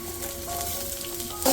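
Half a medium onion is frying in a pan with peppercorns for a pineapple chicken roast, giving a short, steady sizzle that ends in a sudden louder hiss.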